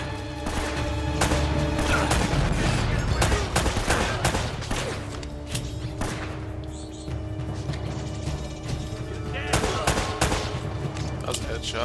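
Sustained automatic gunfire and single shots from a firefight in Uncharted: Drake's Fortune, loud and continuous with brief lulls, a voice occasionally audible over the shooting.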